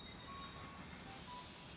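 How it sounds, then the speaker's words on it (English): A steam train rolls into Dessau station in 1926 with a steady rumble of rail cars and thin, sustained wheel squeals, continuous and fairly loud, with no voices. "a steam train pulled into Dessau station"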